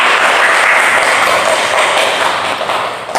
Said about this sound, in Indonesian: Ya, tepuk tangan dulu semua.